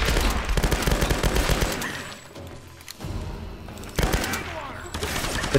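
Rifle fire in Tomb Raider comes as rapid bursts of loud shots with booming impacts, pausing briefly midway before resuming, with a voice talking over parts of it.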